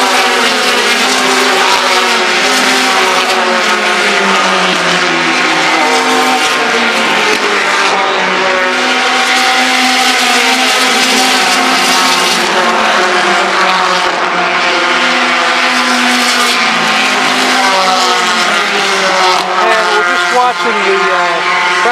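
Indy Lights race cars roar past during a practice session at Mid-Ohio, a loud continuous engine wail with rising and falling pitches as cars pass, dense and unbroken with no talk.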